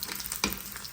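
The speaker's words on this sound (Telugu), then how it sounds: "ఫస్ట్ మనం వెల్లుల్లి వేసేసుకుందాం" Garlic frying in hot oil for a tempering, a brief close sizzle with a sharp crackle burst midway, no voices.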